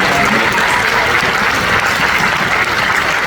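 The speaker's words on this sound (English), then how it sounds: "So there's a big round of applause for" A premiere crowd gives a big round of applause for the Disney staff, loud, close and continuous clapping filling the whole stretch without pause or talking.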